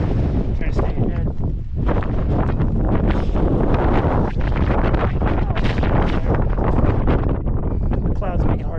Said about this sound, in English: It's just the wind that's right.